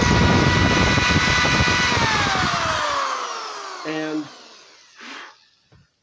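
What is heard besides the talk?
drilling a small hole in wood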